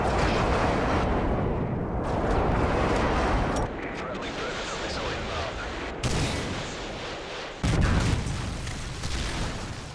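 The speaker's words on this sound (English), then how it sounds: "Friendly airstrike on the way." Airstrike explosions pound a village map during a video game team deathmatch: a dense, loud, continuous roar of blasts, broken by a few abrupt cuts and surges.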